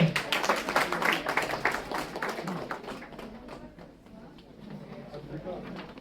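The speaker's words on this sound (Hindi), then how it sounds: "जोरदार तालियों से" An audience at a Remote Sensing Day prize ceremony applauds a school prize winner with rapid, crowded clapping that is loud at first and then tapers away, while voices and a speaker carry on.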